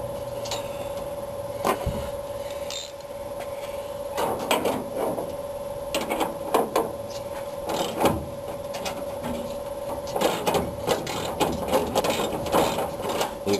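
A ratchet is turned on a radiator bolt of a 1965 Ford Mustang GT, giving close, repeated clicking bursts separated by short pauses over a faint steady hum, with no speech.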